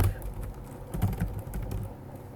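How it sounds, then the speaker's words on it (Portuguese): Fingers type a command on a computer keyboard in a quick, close run of light plastic key clicks with uneven rhythm. "Digita aí, mas não executa ainda."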